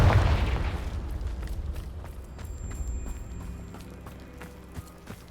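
The Confringo blasting spell goes off in Hogwarts Legacy as one heavy close boom that rumbles away into debris and faint crackles.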